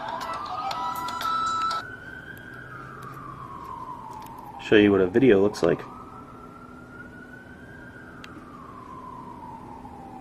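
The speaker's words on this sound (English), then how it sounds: "Pardon the sirens in the background" A wailing emergency siren drifts along a New York street, rising and falling steadily from a distance under someone talking close by.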